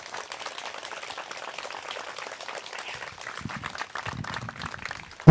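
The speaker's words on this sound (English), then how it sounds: "Let's give them all a round of applause for their support." A crowd at a community walk event gives a round of applause, a steady, fairly soft patter of many hands clapping that carries on for several seconds, with a brief loud bump at the very end.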